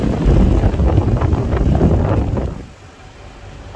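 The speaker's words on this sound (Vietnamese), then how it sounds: "Quạt chạy còn rất là êm bác nhá" Mitsubishi ventilation fan with 40 cm blades running, a loud broad rushing whoosh of moving air that holds steady and then drops away, leaving a quieter hum.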